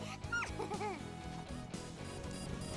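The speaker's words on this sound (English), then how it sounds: "Oh no, robot dog." A robot dog in the video game Ray's The Dead barks and yips several times in quick bursts, with whimpering pitch sweeps, over a steady game music background.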